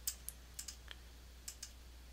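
Computer mouse clicking during a Flash CS5 animation tutorial, heard as about eight quiet, sharp clicks spaced irregularly over a low, steady hum.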